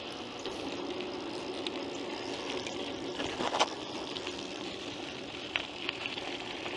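Creek water flows in a steady, gentle rush, faint and even throughout, with a couple of small splashes and no voices.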